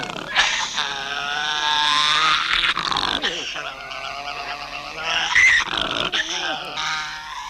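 A Tasmanian devil in a fierce display, letting out harsh guttural growls and rising screams almost without pause, loud and close throughout.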